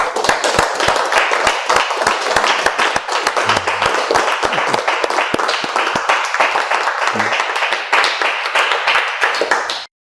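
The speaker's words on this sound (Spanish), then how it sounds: "Entrémosle un fuerte aplauso, papito Dios." Church congregation clapping enthusiastically during a teaching class for pastors, a dense run of sharp, rapid hand claps lasting about ten seconds before stopping abruptly, with faint voices mixed in.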